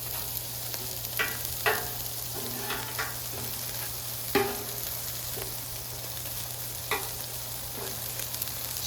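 Beef patties fry in butter on a Blackstone griddle with a steady, close sizzle, broken by a few sharp spatula clinks and scrapes. No one speaks.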